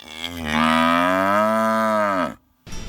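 A single long, loud cow moo rises and holds for about two seconds, then cuts off, followed by a short burst of another sound.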